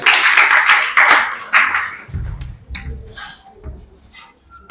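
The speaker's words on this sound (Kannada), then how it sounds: "ಚಪ್ಪಾಳೆ ಹಾಕ್ರಿ" Schoolchildren in a classroom break into a short burst of hand clapping, dense and close at first, then fading into scattered taps and murmuring voices.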